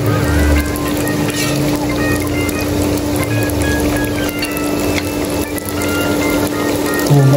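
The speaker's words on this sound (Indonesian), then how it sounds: "suara minyak goreng itu merdu" Cooking oil sizzles steadily while tempeh fries in a home kitchen, a loud, continuous crackling hiss with no pauses, close to the listener.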